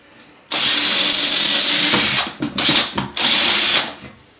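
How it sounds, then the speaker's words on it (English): A power drill fitted with a Rotozip bit whines loudly while cutting drywall, running in a long burst, briefly easing off, then two more shorter bursts close up. "let's see how this Rotozip blade works in the drill."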